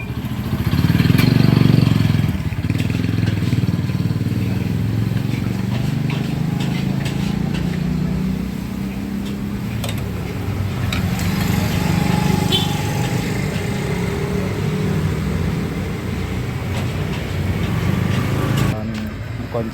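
A Honda Vario Techno 110 scooter engine with a rattling fault idles steadily and close by during a teardown, a low continuous hum with faint ticking throughout.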